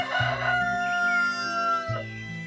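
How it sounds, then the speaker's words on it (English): A rooster crows loudly and close by, one long drawn-out call followed by the start of a second crow. "The rooster outside crowed."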